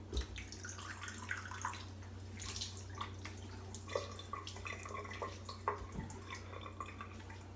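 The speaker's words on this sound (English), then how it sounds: "I'll rinse off the alum." Water runs from a tap as alum is rinsed off after a shave, a quiet trickle with small splashes and drips in a sink, faint and close.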